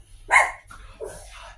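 A single sharp dog bark rings out, followed by a softer yip and a faint whine, close by with quiet background.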